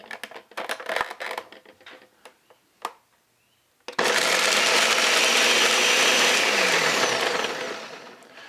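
Blender pulverising papaya flesh and papaya seeds for a fruit smoothie: a few knocks and taps, then a loud, steady whirring grind that runs for about four seconds and fades near the end, with no talk.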